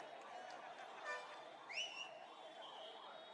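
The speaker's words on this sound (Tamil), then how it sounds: "இனி இப்படிதான் அடிக்கடி இந்த ஆம்புலன்ஸ் போகும்." An ambulance siren passes at an outdoor election rally in Kallakurichi, a faint rising and wavering wail heard at a distance beneath steady crowd murmur and background talk.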